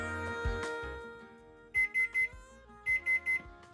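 A kitchen timer goes off while basmati rice with butternut squash cooks, giving two bursts of three sharp, loud electronic beeps over quiet background hum.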